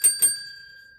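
A small bicycle-style bell rings twice in quick succession, bright metallic strikes followed by a clear ringing tone that slowly decays, close and alone.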